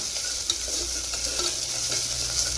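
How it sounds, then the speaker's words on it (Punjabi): Ginger and green chili frying lightly in a pan for chana soup, giving a steady soft sizzle with faint stirring scrapes throughout, close and continuous with no talking. "ਆਪਾਂ ਹਰੀ ਮਿਰਚ ਪਾਈ ਆ ਜਿਹੜੀ ਲਾਲ ਆਪਾਂ ਸਕਿਪ ਕਰਤੀ ਆ ਇਦਾਂ ਨੂੰ ਹਲਕਾ ਆਪਾਂ ਭੁੰਨ ਲੈਣਾ"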